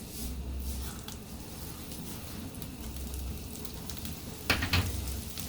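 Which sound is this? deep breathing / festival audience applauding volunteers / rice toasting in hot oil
rice toasting in hot oil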